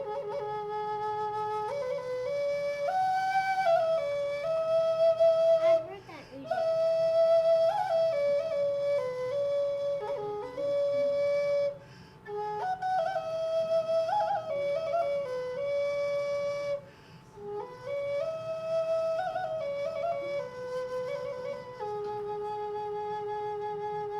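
Early Native American music from the Wisconsin region, heard as a breathy, flute-like melody. It rises and falls in steady phrases, with a few short pauses, and plays clearly and alone with no talking.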